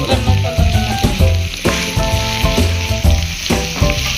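Small onions (shallots) fry loudly in a pan for a Nadan papaya chicken curry, sizzling bursts mixed with stirring clatter and scraping in an uneven rhythm, close and continuous.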